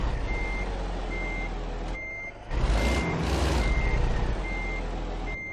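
A Kenworth truck in American Truck Simulator reverses in deep snow, its backup alarm beeping at a steady, evenly spaced rhythm over a constant engine drone, with a brief air-brake-like hiss partway through.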